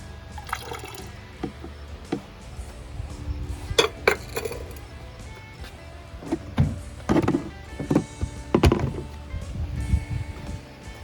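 Vintage gold-plated CPUs tumble out of hot hydrochloric acid, giving scattered hard clinks and rattles with wet splashes and drips, a few sharp clusters standing out near and clear with no talking.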